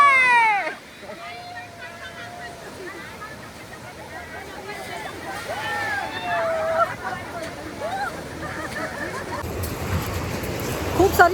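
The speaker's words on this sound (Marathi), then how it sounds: "काय सुंदर लाटा येत आहेत" Sea waves wash and break on a stone beach as a continuous surf roar that swells toward the end, while voices and high squeals of people nearby ride over it.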